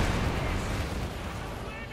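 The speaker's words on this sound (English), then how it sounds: "And there we go, grenade in the midst of everything" A grenade explodes amid heavy gunfire and artillery in a Company of Heroes 2 match. The result is a dense, continuous roar of battle with booming low rumble and crackling shots, loud and sustained across the whole moment.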